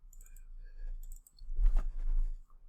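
Mouse clicking while navigating scenes in Final Draft 12 screenwriting software, a couple of small sharp clicks followed by a soft rustling burst, close and quiet.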